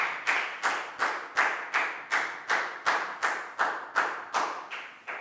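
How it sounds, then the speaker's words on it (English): A classroom of children clapping for a student named Dan during a Year 4 math lesson, about a dozen evenly spaced sharp claps in a steady rhythm, close and clear with no talking. "a big round of applause for Dan"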